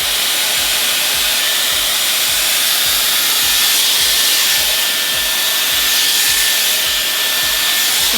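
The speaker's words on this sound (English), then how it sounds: "I'm going to start blowing out my hair and I'll be back" Dyson Supersonic hair dryer blowing out curly hair, a loud, steady airy roar with a whining high hiss that runs on without a break, close by and with no talking.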